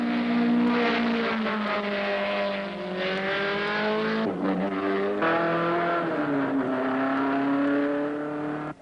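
Race cars, including a Datsun and an Alfa, roar by with loud, sustained engine notes whose pitch climbs and dips through gear changes, with a brief drop and surge midway.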